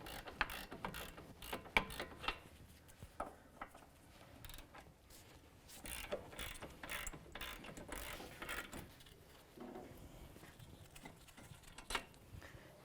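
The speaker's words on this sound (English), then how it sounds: "17mm socket, take the caliper bracket bolt from the knuckle off to break it" A ratchet with a 17mm socket clicks as it loosens a caliper bracket bolt on the steering knuckle of a 2005-2009 Subaru Outback. Rapid, irregular bursts of small metallic clicks play close but quiet, with no talking.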